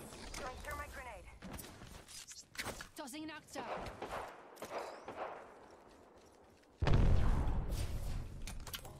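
Scattered gunshots and clattering bursts from Apex Legends sound in short clusters, partly under excited talk, ending in a louder sustained burst of noise.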